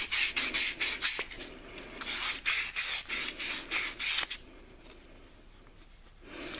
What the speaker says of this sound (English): Usually just a little light sanding will be all you need just to clean that up for the new cups to slide in.